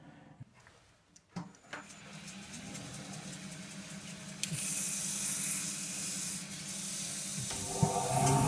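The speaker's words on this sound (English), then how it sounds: "if you've got a reverse, then it's useful to reverse sand" Abrasive rubbing against a spinning wooden bowl on a lathe running in reverse, a steady close hiss over the motor's low hum that grows brighter partway through.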